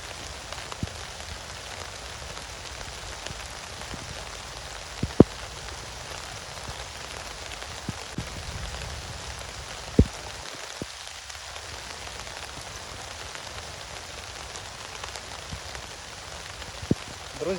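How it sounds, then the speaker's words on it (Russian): Heavy rain falls in a forest in a steady, hissing downpour, with a few sharp drips and taps standing out close by, and no one speaking. "я рано радовался и сказал, что дождь закончился, потому что опять льет"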